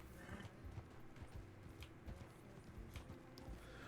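Horse hooves clip-clop in a roleplay video game, an uneven run of quiet, close thuds over a low background hum.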